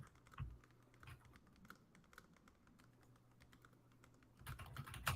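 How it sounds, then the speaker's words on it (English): Rapid, steady clicking of keys on a computer keyboard, a continuous patter of light taps with a few heavier thumps near the end. "Can you hear me typing?"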